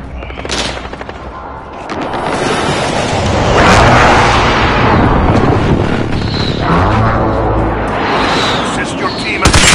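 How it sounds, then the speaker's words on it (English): Precision airstrike in a Call of Duty: Modern Warfare multiplayer match, loud rumbling explosions swelling in the middle amid bursts of gunfire and game voice callouts, sustained and dense throughout. "Friendly precision airstrike on the way."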